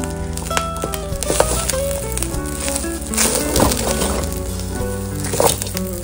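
Butter melts and sizzles in a hot pan while chicken over rice is cooked, a close, continuous frying crackle with occasional bursts of spitting and stirring clatter, no talk.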